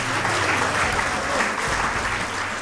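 A poetry mushaira audience claps in a loud, dense, sustained round of applause that continues steadily from start to finish.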